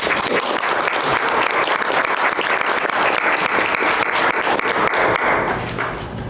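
An audience at a lecture event breaks into sustained, dense applause that carries evenly throughout before tapering slightly at the close.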